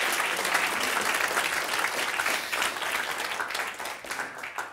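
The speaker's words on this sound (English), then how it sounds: "give yourselves a big round of applause" A conference audience applauds, sustained clapping from a crowd filling the room at a steady level for several seconds before easing slightly toward the end.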